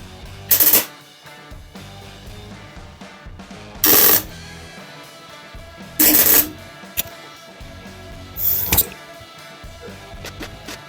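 MIG welding puts tack welds on steel car body panels: four short, loud, crackling bursts separated by quiet pauses of a second or two.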